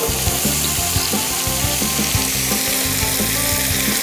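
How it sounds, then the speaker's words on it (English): Sausage pieces sizzling hard in a pot while gumbo is being made, a loud, steady crackling fry that stays continuous throughout, with faint stirring clatter underneath and no voices. "You see how that's sizzling?"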